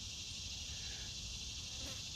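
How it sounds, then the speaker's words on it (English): Steady high-pitched insect drone, likely cicadas, fills a quiet backyard in a continuous, even wash of buzzing at moderate distance, with no talk over it. "I think that's cicadas that we hear in the background here."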